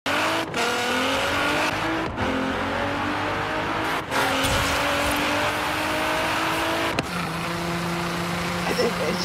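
Porsche 996 GT engine in the Forza Horizon 3 racing game, a steady loud rising whine through the gears with brief dips at shifts, tire noise underneath, running continuously.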